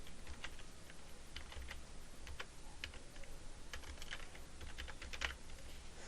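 HTML code being typed on a computer keyboard: faint, rapid, irregular key clicks over a steady background hiss, with no voices.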